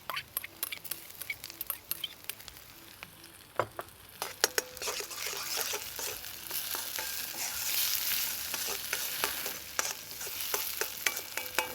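Chopped tomato frying in a balti pan, a dense close sizzle swelling after a few sharp stirring clicks, then steady bubbling crackle with scattered taps of a utensil, no voices.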